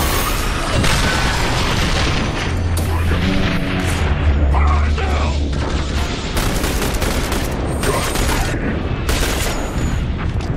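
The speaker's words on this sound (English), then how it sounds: "Bombardment now! Fire support incoming!" Artillery bombardment pounds the battlefield in The Bureau: XCOM Declassified, with loud continuous rumbling blasts and scattered gunfire cracks across the whole stretch and a few deeper booms in the middle.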